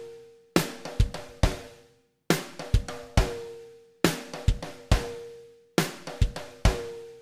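Software playback of a drum rudiment, left-right-right strokes as eighth-note triplets over a groove, heard as four repeated one-bar phrases of crisp, close drum hits with cymbal decay and no talking.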